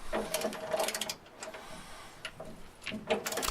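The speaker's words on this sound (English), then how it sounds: "I used a big, a torque wrench here to get it going." Ratcheting, grinding clicks of a wrench turning a stiff spare tire hoist bolt with a plastic-insert nut on a 2015 Sierra/Silverado, heard in close, uneven bursts with a quieter pause in the middle.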